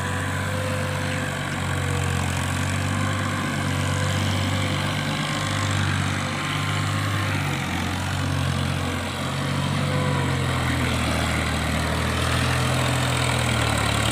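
A tractor engine runs steadily nearby, a low droning idle with a slight rhythmic throb and no voices over it.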